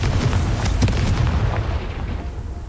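Booming fire-spell explosions from Confringo in the video game Hogwarts Legacy, a dense run of loud, overlapping blasts with a rumbling low end that stays heavy throughout.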